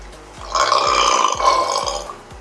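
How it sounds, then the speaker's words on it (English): A loud, drawn-out burp during a spicy chicken wings mukbang challenge, a single rumbling belch that swells twice over about a second and a half, close and alone. "she could put out some mean belches"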